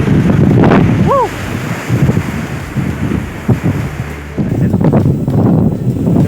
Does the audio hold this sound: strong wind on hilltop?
yes